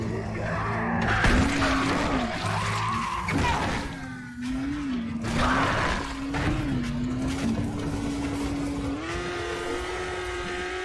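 Engine whine of a car in the zombie survival game Dying Light: The Following, rising and falling as it accelerates and shifts, with harsher scraping bursts that suggest tire skids, steady and close throughout.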